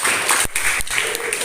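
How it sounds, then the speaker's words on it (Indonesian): Short applause from schoolchildren in a classroom after a lesson, with scattered claps and a couple of sharp louder hits, fairly close and busy. "Tepuk tangan semuanya."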